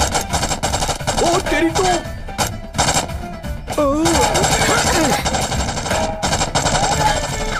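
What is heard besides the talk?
gunfire in a video game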